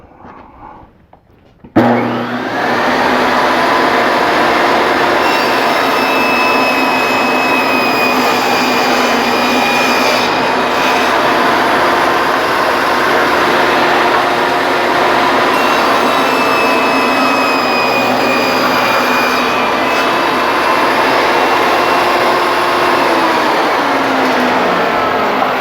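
A power saw's blade cuts strips from wood with a loud, steady whine and roar that holds for over twenty seconds, starting abruptly after a brief quiet moment.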